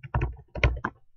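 Someone types a name on a computer keyboard in two quick bursts of close, crisp key taps separated by a short pause, with no talking.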